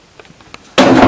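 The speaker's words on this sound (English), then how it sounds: "The door upstairs slammed shut." A door upstairs slamming shut, a single loud bang after a few faint creaks and taps, sounding somewhat distant and ringing briefly.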